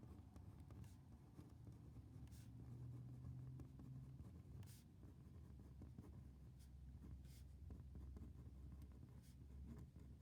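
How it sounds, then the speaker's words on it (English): A pen or marker writes out a geometry conclusion in quick, faint scratching strokes with steady low background hum and no talk. "Then I'll write out our new conclusion for what we can write."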